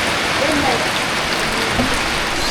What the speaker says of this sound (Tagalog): grabe ang hangin at saka ulan.